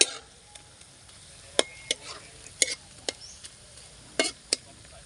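Sliced bananas fry in hot oil for banana chips, a steady close sizzle running throughout while a utensil stirs them, giving sharp scraping clicks at irregular moments.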